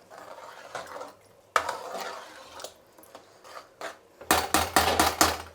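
Vegetables are stirred in a pot with a spoon, making intermittent scraping and rubbing strokes that end in a quicker burst of close knocks.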